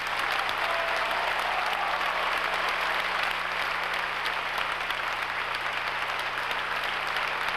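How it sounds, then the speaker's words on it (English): A concert hall audience of the Atlanta Symphony Orchestra and Chorus gives a dense, sustained ovation after a performance of the Ninth, loud and even throughout with no pauses. "The applause that started at the conclusion of the ninth continued through 8 curtain calls."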